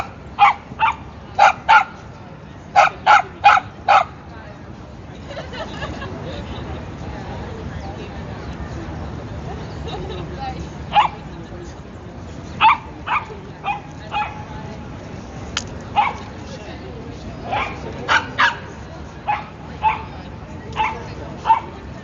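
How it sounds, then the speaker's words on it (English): Several large dogs in an outdoor city dog run bark in short bursts of yips and bow-wows, with quieter gaps between volleys, over a steady background of crowd noise and talking. "Hello dog, keep on barking."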